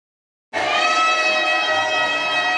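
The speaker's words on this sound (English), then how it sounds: "Cheers and applause from a crowd of supporters who stood outside the courthouse in solidarity with State Rep Attica Scott" A crowd of supporters outside a courthouse suddenly breaks into loud, sustained cheering and applause, with bright shouts and whistles held over a continuous roar.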